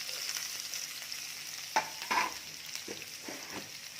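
Onion frying and stirred in oil with curry leaves and green chillies for a cabbage dish, a quiet steady sizzle with a few sharp scrapes and taps of the spoon against the pan.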